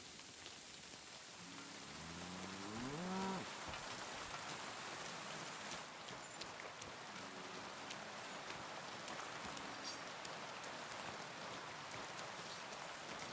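Steady rain patters in the medieval world of Kingdom Come: Deliverance 2, a soft, continuous wash, with a brief horse whinny and hoof clops partway through and no speech.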